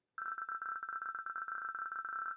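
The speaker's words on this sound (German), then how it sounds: "mein Handy klingelt" Mobile phone ringing in the police video game Police Stories, a steady electronic tone pulsing in quick, regular bursts, clear and close, continuing without pause for the whole stretch.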